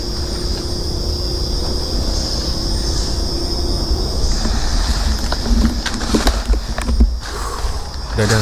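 A train rolls past on the rails near a hotel in Taiping, a loud continuous rumble with rising wheel squeal and clatter as it nears, mostly alone with little talk.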